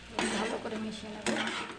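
Chowmein with scrambled egg, turmeric and salt is tossed in a pan, giving two bursts of scraping, clattering spatula-on-metal stirring, close and moderately loud.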